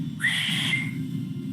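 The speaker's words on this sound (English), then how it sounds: "creating like this loud whistling noise" A loud, sustained two-finger whistle, shrill and close, slides upward at the start and holds steady for over a second above low background murmur at a tabletop role-playing game session.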